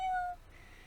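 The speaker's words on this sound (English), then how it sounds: "Is that a cat?" A kitten gives a short, thin meow at the start, then a low hum and room noise take over for the rest.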